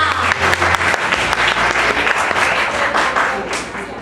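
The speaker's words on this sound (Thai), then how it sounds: "ขอเสียงปรบมือดังๆให้กับทั้งสองคนได้นะคะ" Loud sustained applause from an audience for two speakers at a speaking and personality-development class, dense clapping throughout that tapers slightly toward the end.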